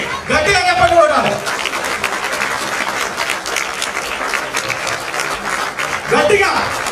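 Students at a school award ceremony standing and clapping loudly, a dense sustained wash of applause from a large group, with a voice speaking briefly at the start and end.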